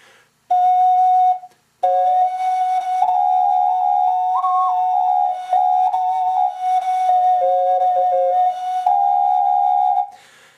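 A Langley double ocarina in C plays a steady, pure whistling tune, with a held drone note under a moving melody, close and clear with short pauses between phrases.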